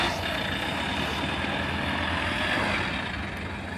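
A vehicle pulling away at a roadside spot in Gibraltar, where monkeys roam, heard as a steady engine rumble and broadband road noise, close and fairly loud for several seconds.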